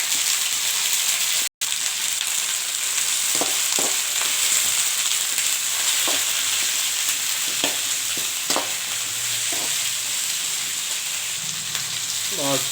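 Onions frying in oil in a kadai give a steady, close sizzle with occasional stirring clicks and a momentary dropout near the start.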